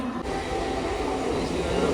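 A passenger train bound for Chhatrapati Shivaji Maharaj Terminus rumbles past close to a station, a steady, loud, continuous roar of wheels and carriages with no voices over it.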